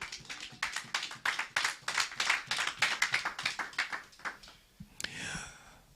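A church congregation breaks into applause after a sermon reading, a dense burst of clapping lasting several seconds, with rhythmic claps and a sharp single hit near the end before fading into room noise.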